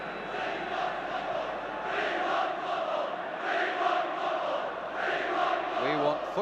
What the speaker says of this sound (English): the crowd are shouting